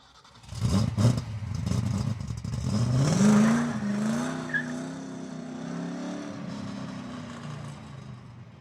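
A Ford convertible roars through a radio-drama car chase, its engine revving up in a rising whine and then holding a loud, sustained drone as it speeds away, with brief tire squeal.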